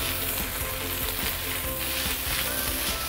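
Prawn noodles and bihun for Singapore Hokkien prawn mee are stir-fried in a wok, giving a loud continuous sizzle broken by repeated scraping and tossing of the spatula, close up with no voices.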